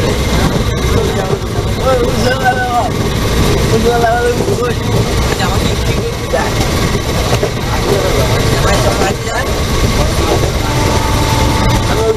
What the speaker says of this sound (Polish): To są realia w indyjskich pociągach.